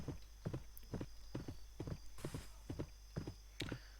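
A horse's hooves clip-clop at a steady walking rhythm in a wild west video game. The hoofbeats are close and evenly spaced over a low background hum, with no talk.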